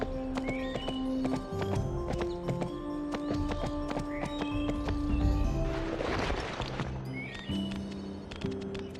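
Horse hooves clip-clop steadily while a horse whinnies in the PlayStation 2 game Barbie Horse Adventures, with background music playing throughout.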